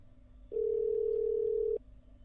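A steady telephone dial tone after dialing 121 sounds alone for just over a second, then cuts off, leaving a quiet room.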